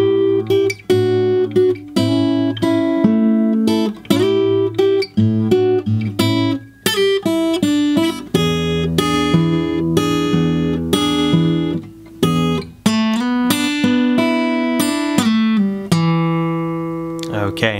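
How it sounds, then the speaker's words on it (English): Fingerstyle blues guitar plays through a full line of licks and turnarounds, loud and close, with plucked notes and chords in a steady rhythm, bass notes under the melody, and pull-offs to open strings, unaccompanied by talk. "now playing all of line number 3"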